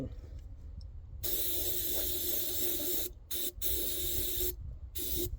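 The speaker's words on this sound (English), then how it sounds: "I'm just going to spray that throttle body out just to get any other leftovers" An aerosol can of throttle body and air intake cleaner sprays into the throttle body of a 2012 Ram 3500 6.7 diesel, three close, loud hissing bursts separated by short pauses.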